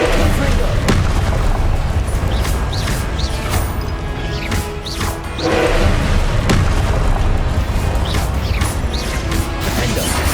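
Confringo blasting spell in Hogwarts Legacy, heavy booming impacts and crashes over dense game combat noise, repeated through the stretch, with a voice talking over it.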